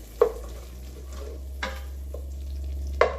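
Arroz con gandules being stirred in a pot, giving a few short scraping strokes near the mic over a faint, steady sizzle, with no talking.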